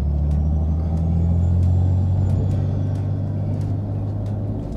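A car engine running, set up for a fuel additive power test, gives a loud, close, steady low rumble for about five seconds with no talking over it.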